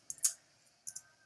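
Keys on a computer keyboard click softly in two short bursts of a few strokes each, close and quiet, with no voices.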